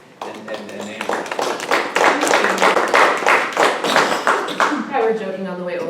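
Audience clapping for Laura and Amy at a talk. Dense, steady applause from a room of listeners, loud and close, tapering off near the end as it gives way to the room settling.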